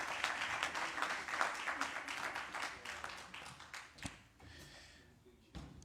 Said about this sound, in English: Come on, let's give him another rousing round of applause.